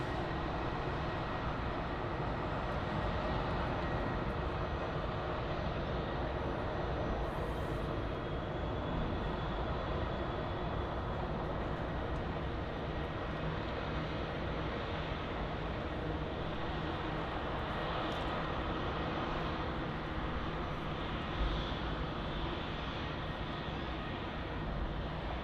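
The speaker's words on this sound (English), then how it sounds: "We have Aer Lingus taxiing out there. Airbus A320" An Aer Lingus Airbus A320 taxiing at Munich Airport makes a steady, continuous jet engine roar and whine at moderate distance, holding a constant broadband rumble throughout with no talk.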